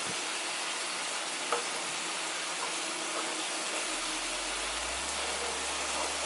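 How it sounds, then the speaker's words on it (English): Creamy mushroom sauce sizzles and bubbles in a pan as it is stirred, a steady close frying hiss with a faint scrape, and a low hum rising near the end. "Because by the time you stir it around, it will come together."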